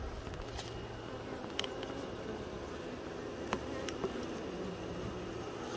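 Honeybees buzz around a beehive entrance as foragers bring in pollen, a soft, steady droning hum with occasional faint taps and clicks nearby.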